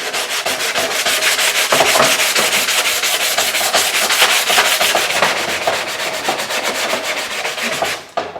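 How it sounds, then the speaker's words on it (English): Steady, rhythmic scraping of 120-grit sandpaper on a hand sanding block across wood, close and loud, continuing in quick back-and-forth strokes before stopping abruptly at the end. "Sanding block, this is 120 grit, that's all I have."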